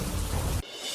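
Heavy monsoon rain in Dang district pours as a dense, loud broadband hiss that cuts off abruptly partway through, leaving quieter background noise.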